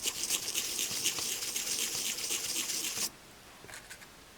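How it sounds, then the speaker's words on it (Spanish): Brisk scrubbing of a brush over a Timberland outdoor watch during restoration, a steady dense rasping for about three seconds that stops abruptly, followed by a couple of faint light touches. "Cepillo."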